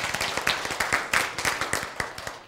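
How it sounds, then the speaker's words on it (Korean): A church congregation gives a short round of applause during a sermon, quick, fairly close rhythmic claps from a modest group, evenly paced and continuing throughout. "박수."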